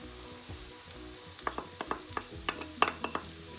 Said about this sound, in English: Sauteing them on low flame for another 2 minutes.